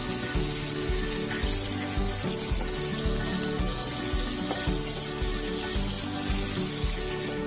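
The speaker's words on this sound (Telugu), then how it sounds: "జీడిపప్పులు వేగిన తర్వాత కొన్ని క్యాప్సికమ్ ముక్కలు కూడా వేసుకుని వేయించుకోవాలి" Capsicum pieces and cashews fry together in hot oil in a pan for mint rice, giving a loud, steady, close sizzle that runs throughout with no pauses and no talking.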